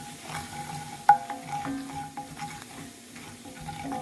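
Spoon stirring flour into pot roast gravy in a pan, soft intermittent scraping with a faint sizzle and one sharp clink of utensil on metal, close and quiet.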